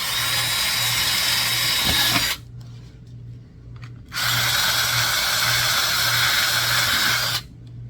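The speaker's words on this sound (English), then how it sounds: "You can drill right through." Small power drill boring through a support bracket inside a 1:72 German Type 212 submarine model kit, two steady whining bursts with a short pause between, close and fairly loud.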